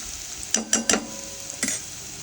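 Onions and urad dal fry in a pan for chena thandu thoran (yam stem stir-fry): a steady hiss of sizzling with a few quick bursts of stirring scrapes close by, no talking.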